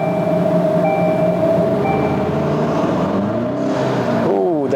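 A 2023 Mk8 Volkswagen GTI engine on a dyno, holding a loud, steady high-rev drone with a strong whine, then dipping and climbing sharply near the end as it downshifts to second.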